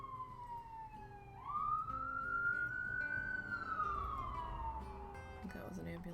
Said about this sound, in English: I think that was an ambulance.